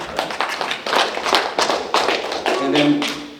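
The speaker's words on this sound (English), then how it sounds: "A round of applause for Kelsey." Applause from an audience at a tribal employment rights presentation for the Mandan, Hidatsa and Arikara affiliated tribes, a few seconds of uneven hand clapping with irregular taps and thuds, fairly close.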